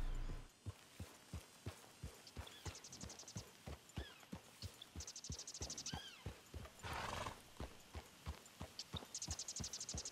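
Steady clip-clop of horse hooves at a walking pace in the video game Red Dead Redemption II, with a few whinnies and snorts mixed in, close and fairly loud.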